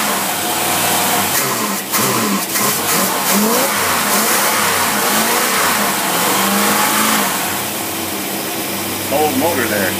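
A Buick engine fitted with a Carter AFB carburetor runs loud and steady close by, a dense, continuous roar with slight rises in revs throughout.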